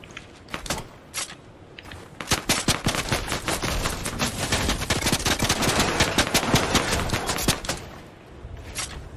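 Rapid Fortnite gunfire: long strings of sharp, crisp shots crackle in fast bursts, building into a dense, nearly continuous volley in the middle before thinning out again, loud and close throughout.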